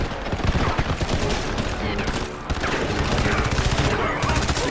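Turret fire in the game Crysis 3 hammers away in loud, sustained rapid bursts, with a brief lull midway before the dense automatic gunfire resumes; faint voices sit under the barrage.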